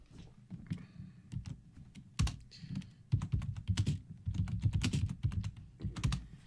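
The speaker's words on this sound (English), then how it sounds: "Apologies for the horrific sound of typing." Close, clattery typing on a computer keyboard, quick uneven bursts of keystrokes with brief pauses between runs.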